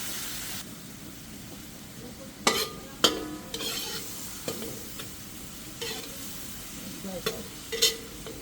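Shrimp paste (bagoong) being added and stirred into pinakbet frying in a pan, with scraping stirs and soft clatters over a steady low sizzle.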